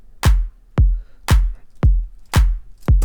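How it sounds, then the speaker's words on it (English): A layered clap sample from a future bass production hits six times in a steady rhythm. Each hit is loud and punchy, with a short decaying tail and nothing else behind it. "This is the clap that comes in before the kick."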